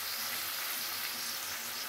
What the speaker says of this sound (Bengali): ক্র্যাবটা কষার সময় আমি গরম মশলার গুঁড়োটা দিয়ে দেবো, দিয়ে কষবো।